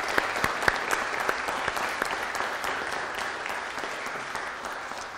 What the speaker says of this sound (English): Let's give them a round of applause to say welcome.